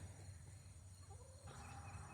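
Chickens cluck faintly in a backyard chicken area, a few soft calls over steady outdoor background noise with no one talking.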